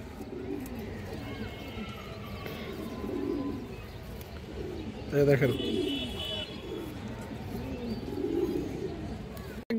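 Pigeons coo steadily in the background while someone speaks over them, with a brief louder flutter or call midway; a large male Bangladeshi fancy pigeon of the Sabji line is among the birds.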